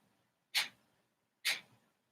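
Two sharp, forceful kapalabhati yoga breaths pushed out through the nose, evenly spaced about a second apart, each a short airy burst with quiet pauses between.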